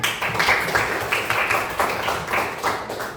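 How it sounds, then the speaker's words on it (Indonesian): Schoolchildren in a classroom lesson clap together for a classmate, a short burst of fairly loud, rhythmic claps in uneven groups, close by, with no talk over it. "Kemudian tepuk tangan untuk Mupian"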